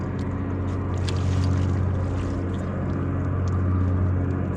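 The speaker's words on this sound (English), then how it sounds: "Big old clam boat coming, that's what you hear." A large clam boat motors past on open water, its engine a steady low drone that swells slightly as it passes, with light wind buffeting the microphone.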